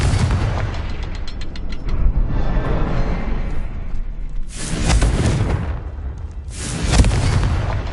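Repeated Confringo fire spell blasts in the Hogwarts video game, loud booming bursts at about 4.5 and 7 seconds over a constant rumbling game backdrop, with no speech.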